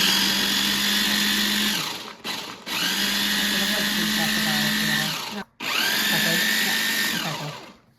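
A blender blitzes a lemon-based sauce in three loud, close bursts of whirring motor, with brief stops between them.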